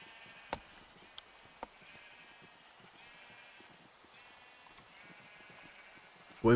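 Sheep bleating in Minecraft, a few soft repeated calls against a quiet game background, with a couple of brief clicks early on and a louder burst at the very end.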